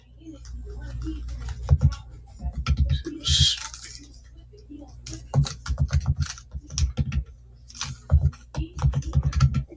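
Keys clatter on a nearby computer keyboard in uneven flurries, with a brief lull partway before the rapid clicking resumes.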